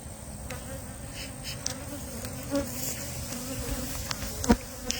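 Honey bees buzzing around opened hives outdoors, a faint, steady hum of many insects with occasional closer buzzes passing near, and a few light knocks and clicks from handling.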